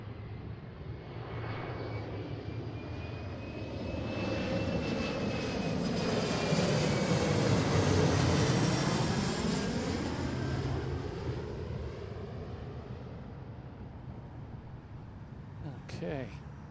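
Horizon regional airliner landing on runway 34 Left at Seattle, its engine roar swelling as it passes close and then fading, a steady broad rumble with a high whine, with speech picked up faintly over it.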